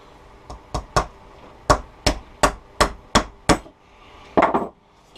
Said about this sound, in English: then just tap the brads home